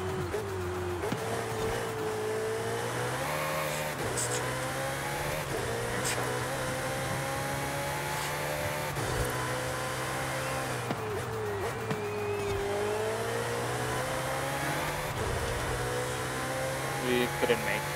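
A Ferrari 488 Challenge race car with 900 horsepower drones steadily in Forza Horizon 5, its engine note rising through the gears and dropping sharply at each shift, continuous and up close.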